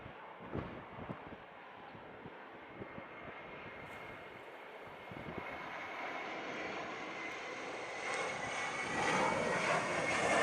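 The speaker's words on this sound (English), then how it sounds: "Airbus 321 Delta on the 3 mile final" Delta Airbus A321 airliner on final approach at Montego Bay, Jamaica: a distant, steady engine roar that swells gradually louder over the stretch, with no voices.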